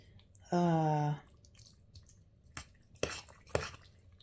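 A spoon works through a packed skillet of cheesy taco hamburger pasta, giving a few soft, scattered clunks and squishy scrapes after a brief tonal hum.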